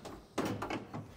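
Car door opening on a handmade all-steel tub of a GT40 replica build, a short sequence of close metallic clunks and latch knocks, with a few separate bursts of handling noise and no voices.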